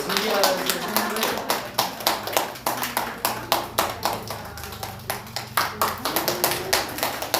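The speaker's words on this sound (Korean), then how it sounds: "두 분 박수로 환영하겠습니다." A church congregation at Sunday worship claps in welcome for two newcomers, giving scattered, uneven claps from a small group, fairly close, with talking mixed in throughout.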